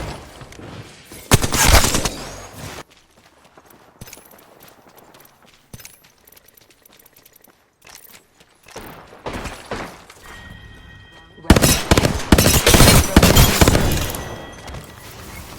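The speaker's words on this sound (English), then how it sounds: "Getting shot at." Bursts of video game gunfire from Apex Legends, with loud rapid volleys at the start and again near the end, separated by quieter stretches of clatter and scattered mechanical sounds.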